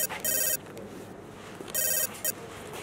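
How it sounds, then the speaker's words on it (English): An electronic phone ringtone for an incoming call, sounding in two bright trilling bursts with a short pause between them over a low room background. "I'm getting a call."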